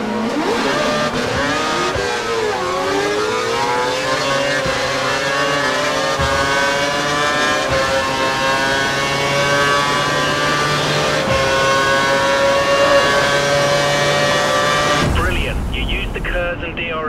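A McLaren Formula 1 car races in the video game F1 2012, its engine howling loudly and continuously as the pitch climbs through gear changes, then cuts off abruptly near the end.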